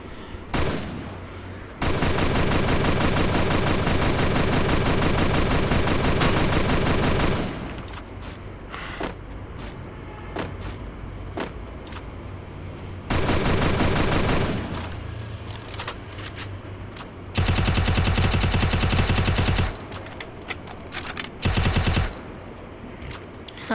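Long bursts of loud automatic gunfire from the video game Free Fire ring out in several separate volleys, each a few seconds long, with shorter single shots scattered between them.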